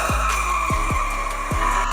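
Hot Wheels die-cast cars race on a toy track as a steady electronic engine drone plays, broken by four sharp tire-squeal skid effects in quick succession, loud and close.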